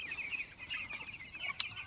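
Ten-day-old broiler chickens crowd a feeder on a poultry farm, a soft continuous chorus of cheeping and clucking, faint and steady, with one brief sharper peep near the end.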